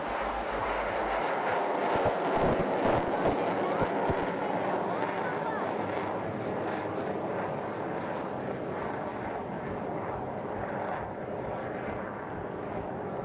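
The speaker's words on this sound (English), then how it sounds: "there he inverts the aircraft and will bring her back through the vertical" A propeller aircraft performing slow aerobatics at the Aero India 2021 air show, its engine a broad steady drone over open-air ambience, with a commentator's voice over it.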